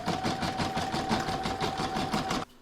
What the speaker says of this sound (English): I'm now going to stitch round number 7, and that's going to do the satin stitch and decorative stitching around this area of the